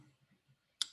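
A single sharp mouse click on a computer's run button while working in Oracle APEX, crisp and close, coming after a few soft low murmurs and followed by a faint low thump.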